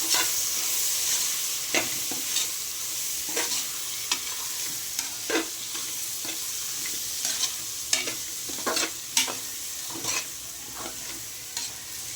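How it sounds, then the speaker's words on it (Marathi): A spoon scrapes and stirs sizzling masala with chili powder, turmeric and coriander powder in a pan for matar pulao. Irregular clinks and scrapes sound over a continuous close frying hiss. "सगळं एकत्र करून हलवून घ्यायचं"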